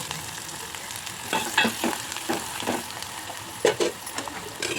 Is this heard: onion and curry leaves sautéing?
yes